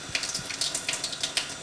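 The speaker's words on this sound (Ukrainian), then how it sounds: "Потім ретельно змиваємо миючий засіб під проточною водою" Running tap water splashes as soapy hands are rinsed under the flow, a close, steady trickle with irregular spattering bursts as the hands move through the stream, with no talking.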